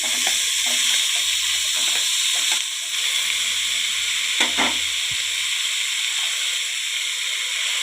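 Tomatoes hitting a hot pan fry with a loud, steady sizzle, broken by a few stirring scrapes and clatters of the utensil, with a thin hiss of steam and no talking.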